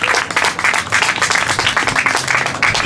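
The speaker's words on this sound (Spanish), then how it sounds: "Dale un fuerte aplauso al Señor." A church congregation breaks into strong applause during a service, a loud, continuous wall of many hands clapping close by with little else audible.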